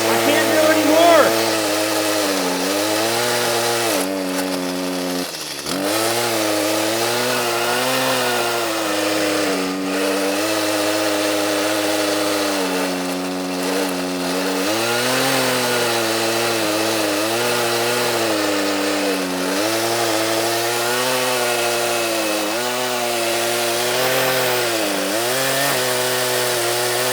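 Loud, continuous two-stroke whine of a 30cc chainsaw fitted with a long bar, held at full throttle with slight pitch sags under load, close up for the whole stretch.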